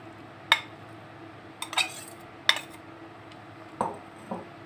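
A spoon or spatula stirs kidney red bean curry with shredded chicken in a pan, giving a few sharp metallic clinks and scrapes spread apart and close up, with a low steady hum behind them.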